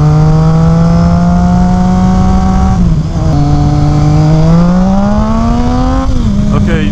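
Loud, close engine drone from a Triumph Street Triple motorcycle fitted with a Two Brothers S1R Black Series exhaust, pitch dipping and climbing through revs and gear changes at highway speed, with wind roar throughout.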